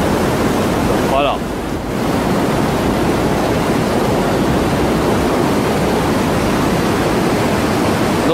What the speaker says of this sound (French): la cascade est au fond. Et l'eau est ici.